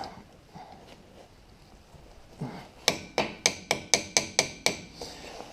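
Hammer taps brake parts flat on a 1970 Chevy Camaro, a run of about eight sharp, evenly spaced metallic strikes close by, preceded by quieter handling noise.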